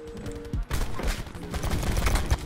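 Rapid bursts of video game gunfire crackle continuously, a dense fusillade of shots layered over low rumbling, loud and close.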